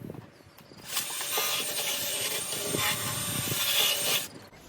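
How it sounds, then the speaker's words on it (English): A wire brush scrubs the metal surface of a mower deck spindle on a zero-turn mower. Loud, close rasping strokes run steadily for about three seconds and then stop. "All right, some may call it unnecessary, but I'm gonna wire brush the top here."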